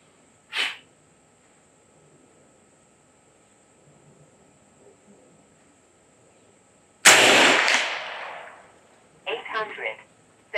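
Air rifle shots from a BinTac MCAR long-range air rifle fired at a target range: one short sharp pop early, then a loud crack with a trailing rush seven seconds later, followed by a few quieter clattering bursts.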